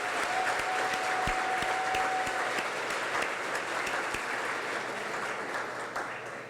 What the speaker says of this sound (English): give all of them a round of applause for setting this up for us